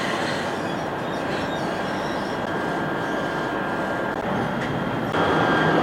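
KTM Komuter train pulling into the Pelabuhan Kelang terminal station, a continuous loud rumble of wheels on rails with screeching and clatter, the noise swelling toward the end.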